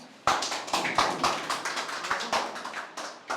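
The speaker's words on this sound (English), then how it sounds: "Give me a big round of applause." Applause for a speaker at a spoken English training session, a handful of close, sharp claps in a loose rhythm, fairly loud and with no talk over them.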